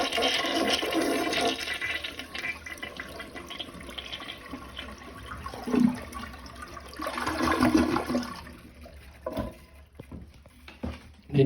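A household toilet is flushed to empty its tank before replacement, a close rushing gush of draining water that fades, then a second surge and gurgling trickles, with no talk.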